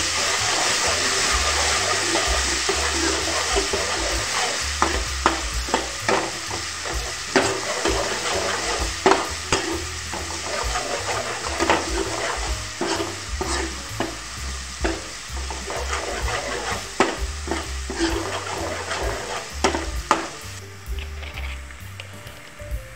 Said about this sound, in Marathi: मी कांदा लाल होईपर्यंत परतून घेणार आहे आणि 1 चम्मच लसूण पेस्ट टाकणार आहे